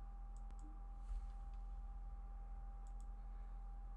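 Sparse, faint keystrokes on a computer keyboard as an email is typed, a few light clicks spread over a quiet indoor hum with no talking.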